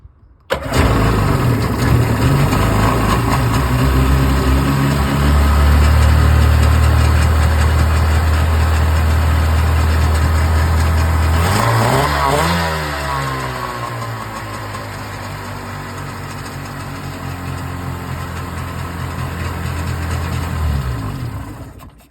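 A 1998 Sea-Doo GS personal watercraft engine cranks and catches, then runs loud and close with a steady drone that dips and wavers around midway before settling and shutting off at the end.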